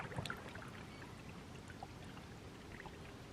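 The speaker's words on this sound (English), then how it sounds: "Just the sound of the water going underneath the boat." River water gurgling and trickling beneath a drifting kayak on the Murray River in South Australia, soft continuous lapping with small splashes, close and quiet, no voices.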